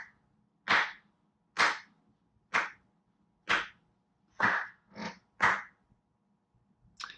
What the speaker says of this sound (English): I just want to give you a slow clap for being so right